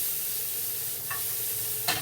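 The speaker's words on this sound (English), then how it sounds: "You want that sizzling all the way throughout your cooking." Quiet, steady sizzling of chicken for fajitas frying in a pan, with a couple of soft clinks from a utensil stirring.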